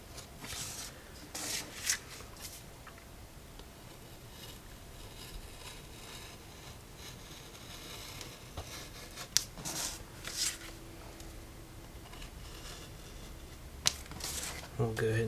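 A blade cuts through leather being shaped for a hatchet sheath, giving quiet rasping and scraping strokes close up, with occasional sharp clicks and a low background.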